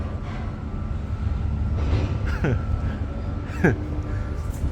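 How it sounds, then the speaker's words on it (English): A freight train at the Atlanta rail yard starts rolling, giving a low steady rumble with sharp screeching squeals of metal cutting through at a middle distance. "That was the train started moving."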